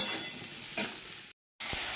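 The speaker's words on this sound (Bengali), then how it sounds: "আলু আর পটল ভালোভাবে ভাজা হয়ে গেছে।" Potatoes, pointed gourd and green chillies frying in hot oil in a wok, a steady close sizzle with a brief stirring scrape, then a short silent gap before the sizzle resumes.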